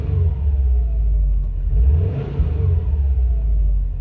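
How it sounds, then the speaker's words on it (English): The engine of a Subaru WRX STI revs up from idle, a deep loud burbling rumble that swells briefly and then settles back. "you hear that classic Subaru rumble"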